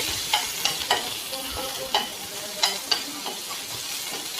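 Chopped onion frying in a pan, a soft steady sizzle broken by repeated sharp spoon scrapes and taps against the pan at irregular intervals, close and fairly quiet with no speech.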